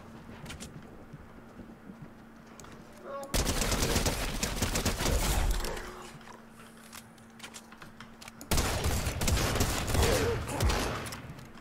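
Bursts of rapid automatic gunfire in a Fortnite match, distant and hollow at first, then two loud, dense volleys of rattling shots separated by quieter stretches of ambient game noise.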